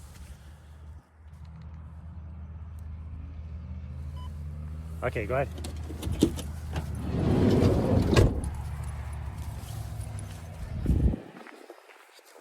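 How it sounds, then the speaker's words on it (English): A car passes on a road during an evening walk with dogs, a steady low engine and tyre rumble that swells to a peak mid-clip and fades, with footsteps and a brief spoken phrase. "I hear a car."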